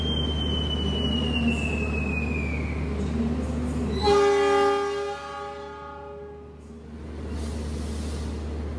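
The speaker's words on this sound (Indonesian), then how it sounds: "Kereta api Taksaka ini berangkat" An Indonesian Taksaka executive passenger train pulls away, its loud horn sounding in a long harmonic blast over a steady low rumble of engine and rolling wheels, nearby and with no voices.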